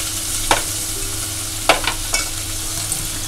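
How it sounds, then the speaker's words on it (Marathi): Steady frying hiss of onions in oil, browning until pink, with a few sharp scraping stirs of a spoon against the pan. "चांगला तेलात आपण हा गुलाबी होईपर्यंत भाजून घ्यायचा आहे"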